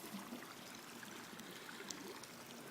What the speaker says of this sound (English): I've got water filling the pool.